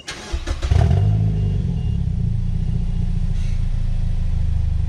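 A 2010 Mazda 6 GH cranks briefly and fires up, then settles into a steady, close, low idle rumble, with no talking.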